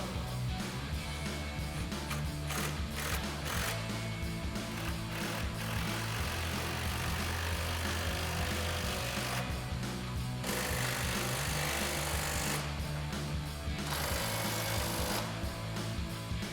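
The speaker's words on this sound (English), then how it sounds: "We'll tighten this flange down as well." A tool tightens the exhaust flange bolts on a 2005-2007 Corvette Borla ATAK cat-back system, giving close, loud, rapid mechanical rattling in bursts with short pauses between them. No one speaks.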